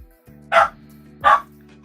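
A dog barks three times with sharp, evenly spaced, fairly close barks separated by brief pauses over a low background hum.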